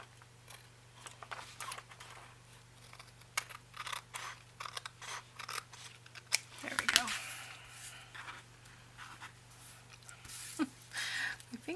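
Scissors trim a paper envelope one side at a time, making a series of quiet, crisp snips and paper rustles at close range, interrupted by soft talk.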